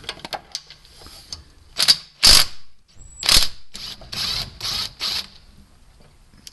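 A 17mm wrench ratchets on the lower strut nut of a 1993–99 VW Jetta TDI, giving a string of sharp clicking turns and metallic clacks up close, loud and irregular, with no talking.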